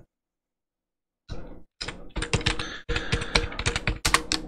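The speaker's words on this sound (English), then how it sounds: "Hold on, I'm typing some stuff here." Someone types on a computer keyboard after a moment of silence, a close, rapid patter of key clicks in uneven bursts with short pauses between them.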